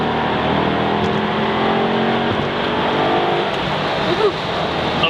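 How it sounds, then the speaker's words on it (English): A Maserati Cambiocorsa Spyder's engine pulls hard out of a turn, a loud, steady, sustained drone heard from close by without a break. "you'll hear this engine just breathe on the way out of here."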